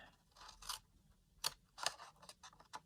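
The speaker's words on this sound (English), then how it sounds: "So the next thing we do, snip down" Scissors snip through olive cardstock in a few quick, close cuts, with crisp separate clicks spaced irregularly over a quiet background.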